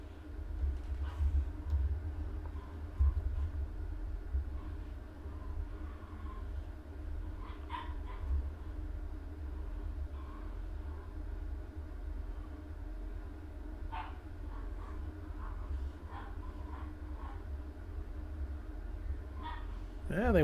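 Dogs bark and yip outside while chasing one another, faint and distant, in scattered short bursts beneath someone talking nearby.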